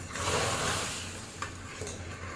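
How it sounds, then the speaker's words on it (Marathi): Caramel being stirred into basundi, a thickened sweet milk, in a large pan on a low gas flame: a steady sizzling, swishing stir with a faint scrape of utensil against the pan, alone and close. "आता यात आपल्याला हे कॅरमल असं मिक्स करून घ्यायचं आहे."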